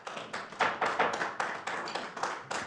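Applause at a town council meeting: a small group claps in a steady, fairly close patter that holds for a few seconds with no talking.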